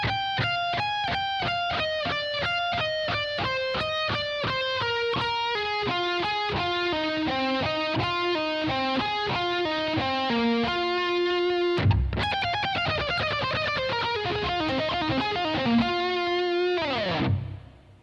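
An electric guitar plays a solo lick: a fast, continuous run of descending thirty-second notes, loud and alone, repeated twice with a short break near the middle and a brief ring-out at the end.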